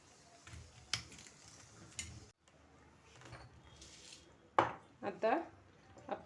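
A knife cuts cucumber into small pieces in a home kitchen, giving scattered, sharp taps against the board. The sound is quiet overall, with a few louder clacks toward the end.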